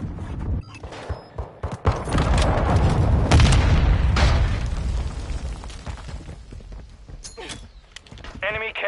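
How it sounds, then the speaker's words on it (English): Incoming missile strike in Call of Duty MW2 on PS5, a heavy booming blast that rumbles and rolls for several seconds amid gunfire and game voice callouts, then tails off. "Missile incoming."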